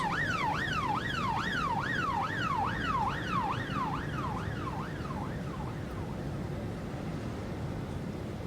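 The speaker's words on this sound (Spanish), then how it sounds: "hay una ambulancia en el camino" An ambulance siren in the police-management video game This is the Police wails in a steady rising-and-falling pattern over a continuous low rumble, then fades into the background noise.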